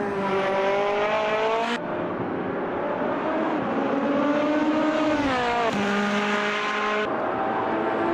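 Hypercars race around the Nürburgring Nordschleife in the sim game AMS2, a loud, close engine whine rising and falling through gear shifts, with a few abrupt upshifts and steady high revs.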